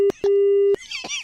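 Telephone busy tone after a call is hung up: steady low beeps, a short one then a long sustained tone, loud and close, followed by brief noise with no talk.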